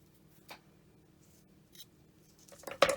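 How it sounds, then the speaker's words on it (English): Wire ends snipped off a handmade wire pendant: a couple of small scissor-like clicks spaced apart, then a sharper cluster of snips close to the microphone at the end, otherwise quiet. "I'm just gonna snip these ends off"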